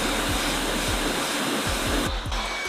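A strong, continuous hiss of water spray rinses the face of a car wheel, loud and close, with a low rhythmic pulsing beneath the steady rush.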